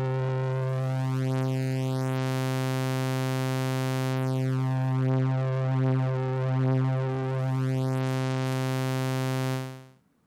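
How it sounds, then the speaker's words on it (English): A simple synth saw wave processed with the Flux machine plugin for a lo-fi character holds a steady buzzing tone, with sweeping filter swirls moving through it before it fades out at the end. "One instance of Flux machine on a simple saw wave and we got us a sound full of character."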